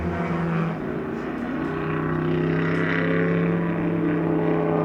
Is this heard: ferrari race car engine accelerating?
yes